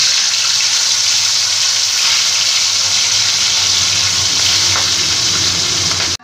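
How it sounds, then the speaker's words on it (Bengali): Katla fish pieces frying in mustard oil in a kadai, a loud, dense, continuous sizzle held close and steady from start to finish. "এবার মাছগুলোকে আমি আস্তে আস্তে ভেজে নেব।"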